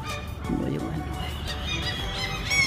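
Honking, fowl-like bird calls ring out in a quiet, empty town, a steady run of overlapping cries at moderate loudness with no traffic or crowd beneath them.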